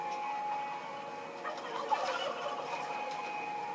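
Turkeys gobble faintly in the distance amid a continuous murmur of many birds, likely a crowded poultry shed of meat turkeys, with no voices.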